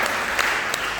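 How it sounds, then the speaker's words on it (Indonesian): An audience at a talk on family harmony claps in a dense, even wash of applause, with a couple of sharper claps standing out briefly. "Tepuk tangan dong untuk ibu-ibu lah."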